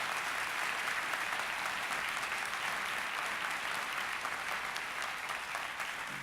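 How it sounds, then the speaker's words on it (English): Sustained audience applause fills a town hall, a steady, even roar of many hands clapping at moderate loudness without a break. "So can we just give them one more round of applause?"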